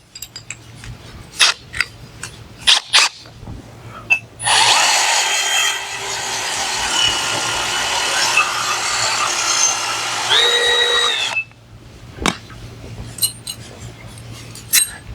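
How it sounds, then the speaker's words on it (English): A power drill bores a 3/8 inch hole through a truck camper shell, one loud, steady whirring run of about seven seconds that winds down at the end, with sharp clicks and taps of handling before and after. "Now I'm going to drill my 3/8 inch hole here while this is being held."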